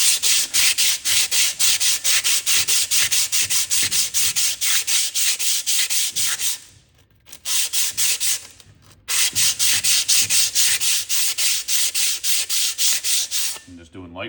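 Rusted brake drum from a 1935 Ford sanded by hand with a folded 80 grit sanding disc: steady, rapid back-and-forth rasping strokes, loud and close, with a brief pause midway before the scrubbing resumes.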